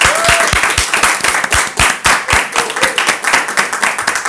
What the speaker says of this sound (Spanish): Así que pido un fuerte aplauso para ella.